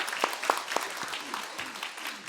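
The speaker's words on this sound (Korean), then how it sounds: "하나님께 영광의 박수 한번 보내드리겠습니다." Congregation clapping during a Christmas thanksgiving worship service at a church, a short burst of applause with several sharp claps standing out over a steady crowd patter.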